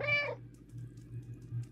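A cat in the video game Stray gives one short, clear meow at the start, followed by faint low ambient tones and quiet background sounds.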